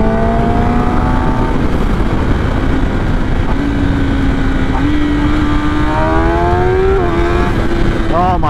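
A stock 2019 Kawasaki ZX10R accelerates hard, its engine note climbing and dropping through quick auto-blipper gear shifts, loud and close under heavy wind rush.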